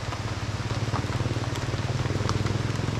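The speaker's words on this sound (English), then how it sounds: "I'm getting rained on." Rain falls on a muddy back road through wild, jungle-like countryside in Costa Rica, a steady soft patter with scattered sharper drops over a low, pulsing background hum, fairly close and with no talking.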